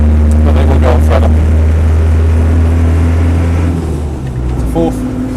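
Land Rover 90 hardtop with a non-turbo diesel engine driving along, a loud steady low drone and rumble throughout with a faint tonal whine, the engine note easing slightly near the end.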